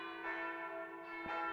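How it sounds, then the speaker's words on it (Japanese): A soft church wedding bell rings in the video game Tokimeki Memorial Girl's Side 4, a sustained resonant chime with a second strike near the end, gentle and fairly quiet with no voices. "ウェディングベルのような優しい鐘の音"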